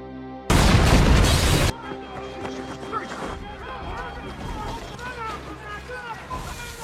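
A sudden loud explosive blast roars for over a second, then gives way to clattering debris and background commotion with speech.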